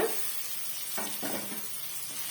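Grated carrot and beans sautéing in a pan for idli upma, a soft low sizzle with a couple of brief stirring scrapes, close and fairly quiet with no talk.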